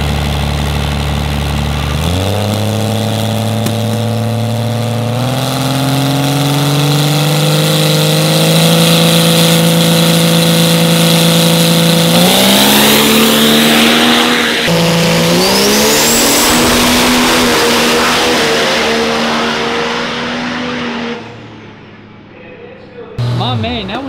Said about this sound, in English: Man, that was a hell of a drag race right there.